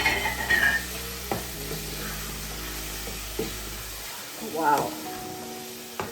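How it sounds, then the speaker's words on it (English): Tomatoes being stirred into beef stew frying in a pot, a low sizzle under scattered knocks and scrapes of a spoon against the pot, with a brief exclamation from a voice near the end. "So we will add our tomatoes now."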